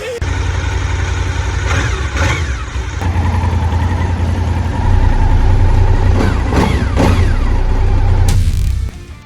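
A Honda RC51 motorcycle engine runs steadily close by with a deep, throbbing idle and a few blips of revving before it cuts off abruptly near the end.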